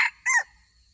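A rooster crows close by in two short, bright bursts, clear against a quiet background.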